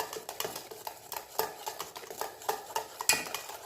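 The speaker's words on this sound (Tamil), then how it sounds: "இப்போ முட்டையும் நல்லா அடிச்சாச்சு" Eggs being beaten with a spoon in a bowl for rava paniyaram batter, a quick run of scraping, clinking strokes against the bowl, fairly close and alone without talk.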